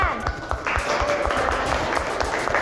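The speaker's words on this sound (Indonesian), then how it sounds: "Tepuk tangan." A group of people claps hands together in a quick, irregular patter of sharp slaps, fairly close, with voices mixed in.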